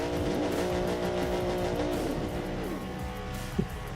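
An unlimited-class drift car in BeamNG revs steadily at the start line of a Formula Drift roleplay event, a loud, sustained engine drone with shifting pitch sweeps and a small click near the end, no talking.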